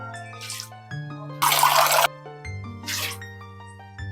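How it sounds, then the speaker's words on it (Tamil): Water goes into a cooking pot for ghee rice in a home kitchen, heard as three short splashing pours, the middle one loudest and longest, over steady background music. "வதக்கிட்டு இப்போ நம்ம தேவையான அளவு தண்ணி விட்டுக்கலாம்"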